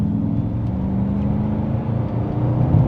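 Mercedes-AMG GT 63 E Performance accelerating hard to overtake, a steady loud engine drone with low harmonics building slightly toward the end, heard from inside the car.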